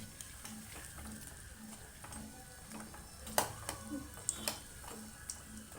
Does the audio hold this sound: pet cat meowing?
no